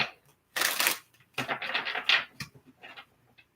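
Tarot cards shuffled by hand in several quick riffling bursts, close and fairly quiet, with short pauses between them.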